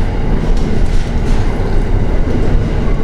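A train rides through the Hoosac Tunnel, a loud, steady rumble of wheels and cars that fills the enclosed space with a continuous roar, with no talk.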